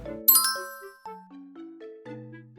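A notification bell sound effect: a short series of bright, ringing chime tones stepping downward one after another, clean and close, each fading quickly into silence.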